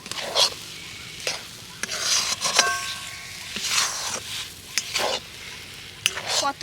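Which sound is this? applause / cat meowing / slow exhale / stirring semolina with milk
stirring semolina with milk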